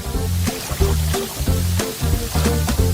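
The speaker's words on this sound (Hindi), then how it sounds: "और मैं उस पर पानी डाल दूंगी।" Cartoon water poured onto soil as a magic seed is planted, heard as rhythmic splashing bursts that repeat over a few seconds, loud and close, with a low musical thump underneath.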